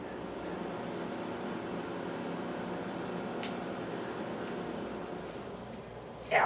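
A steady, low mechanical hum with a faint whir runs throughout, like a microwave oven running nearby, ending in a brief louder clatter.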